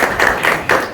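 Audience clapping at a Dr. Babasaheb Ambedkar Jayanti celebration, a loud, dense burst of applause from a crowd that swells in short waves over under a second.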